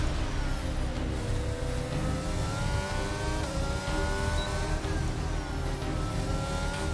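A Formula One car engine in a racing video game at Monza screams at high revs, its pitch climbing through repeated gear changes in a loud, continuous drone on a wet track with intermediate tyres.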